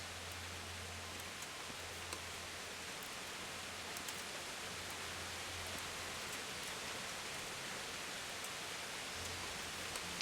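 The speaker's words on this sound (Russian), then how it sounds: "А я тут под дождем." Soft, steady rain in the video game Kingdom Come: Deliverance hisses evenly throughout, faint and continuous, with a low intermittent hum in the background.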